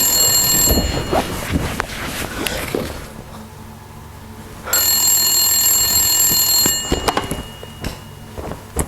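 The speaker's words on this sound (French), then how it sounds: "Il y a un bruit de téléphone." A telephone rings in two loud bursts separated by a short quiet gap, with shuffling and handling noises around them.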